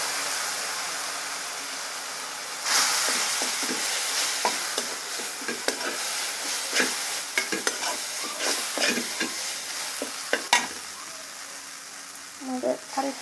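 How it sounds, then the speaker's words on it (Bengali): Spice masala for a mola fish and radish-greens curry sizzles in a pan with a little water added, a steady frying hiss broken by repeated scraping stir strokes, close and fairly loud. "একটু জল দিয়ে দেবো যাতে মশলাটা পুড়ে না যায়।"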